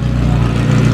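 A McLaren 720S with an aftermarket exhaust gives a loud, deep engine rumble with a throaty exhaust note, steady and close, as if idling or revving right nearby.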